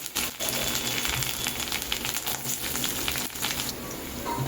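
Carrot pieces drop into hot oil seasoned with cardamom, cinnamon and clove, giving a dense, close, continuous sizzle and crackle with a few brief breaks.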